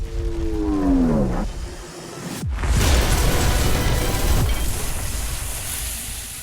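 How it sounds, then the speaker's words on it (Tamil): A loud boom goes off in a video game, a deep blast followed by a long roaring rumble that fills the rest of the moment, after a brief falling tonal sweep and with no talk. "அது வெடித்து விட்டது போல தெரிகிறது."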